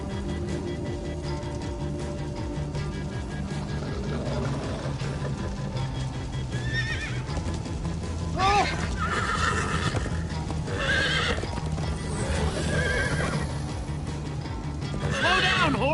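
Horses from Minecraft: Story Mode neigh in sharp rising whinnies over steady galloping clip-clop and a busy game soundtrack, several calls arriving in bursts toward the middle and end.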